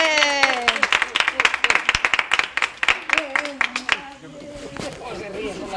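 Children clap their hands after a storytelling session, a run of sharp, quick claps that gradually thin out while voices talk and call over them.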